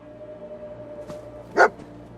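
A dog in the video game Fallout 4 gives a single short, sharp bark after a faint earlier yip, close and fairly loud over a quiet hum of background ambience.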